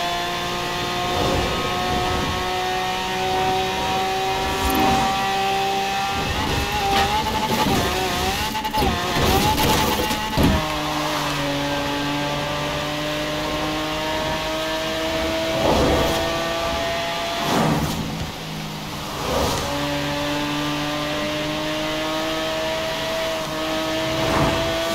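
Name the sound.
car speeding, engine revving, from video game Forza Horizon 4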